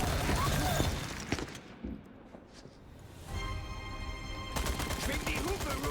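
Gunfire in the Resident Evil 4 remake, a sharp shot followed by scattered impacts and clatter, then a lull before dense combat noise resumes, with a voice talking over part of it.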